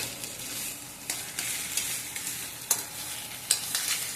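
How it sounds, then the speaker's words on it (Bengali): A pan of mashed cauliflower paste with onion, garlic, nigella seeds and dried red chilli sizzles steadily while a spoon stirs it, with scraping strokes and a few sharp knocks against the pan. No talk. "ততক্ষণ পর্যন্ত একে নাড়াচাড়া করতে থাকবে"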